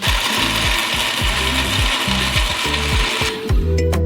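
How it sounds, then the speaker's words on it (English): A kitchen blender whirs at maximum speed through chunks of peeled melon with a loud, continuous grinding roar that cuts off abruptly near the end, over rhythmic background music. "And blend it to the max."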